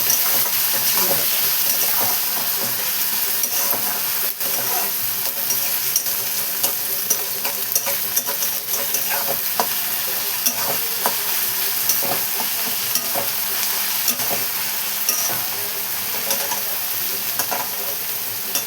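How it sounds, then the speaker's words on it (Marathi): Onion and tomato frying in a pan as they turn brown, a continuous close sizzle broken by frequent scraping strokes of the stirring spoon, steady throughout with no talk. "बघा आपला कांदा तंबाटा ब्राऊन होत आलाय"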